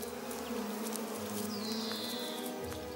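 Bees buzz in a dense, continuous drone, close and steady, with a low hum and scattered faint clicks and a brief higher whine passing through.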